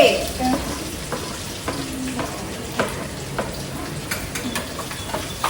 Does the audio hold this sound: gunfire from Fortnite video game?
no